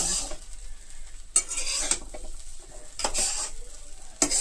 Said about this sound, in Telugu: అంటే అన్నం మరీ ముద్ద అవ్వకుండా కలుపుకుంటూ ఉండాలన్నమాట